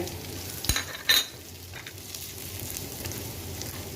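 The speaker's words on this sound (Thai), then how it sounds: "หมูนี้เราทอดมาสุกแล้วนะคะ ไม่ต้องผัดนานมากค่ะ" Pre-fried pork stir-fried in a pan, a steady sizzle with two sharp scrapes or clatters of the utensil near the start, then continuous frying noise alone.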